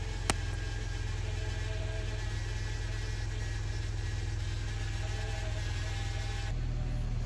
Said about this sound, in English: Ignore the slight whine, this is normal as air purges out the system.